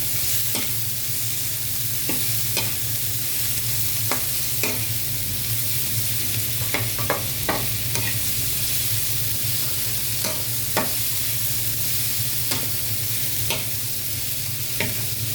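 Lechon kawali fries and is stirred in a pan, with a steady loud sizzle broken by repeated sharp scrapes and clacks of the utensil, no voices.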